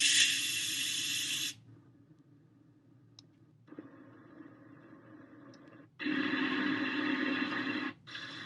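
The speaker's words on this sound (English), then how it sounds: "it creates white noise." A GDBow sound machine plays steady hissing white noise in several switched modes, with abrupt on-off changes between loud bright bursts and quieter, duller hiss settings.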